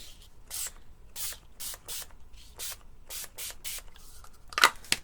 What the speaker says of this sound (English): And there's my water spray.